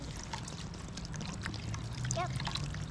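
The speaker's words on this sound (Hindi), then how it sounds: "पानी ऐड कर लेते हैं, इतना पानी के ये ऑलमोस्ट डिप हो जाए।" Water pours steadily into a pot of rice for an outdoor camping chickpea pulao, a continuous close trickle lasting the whole stretch, with faint voices underneath.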